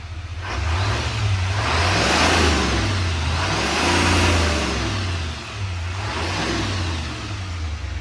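A 2026 GMC Sierra Denali 2500 pickup fitted with a K&N cold air intake revs close by in several rising and falling swells, its engine droning loudly between each blip.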